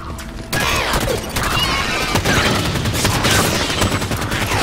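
Continuous gunfire in Halo 5: Guardians during the Evacuation mission, dense overlapping bursts and impacts forming a loud, sustained firefight that kicks in after a brief quieter lead-in.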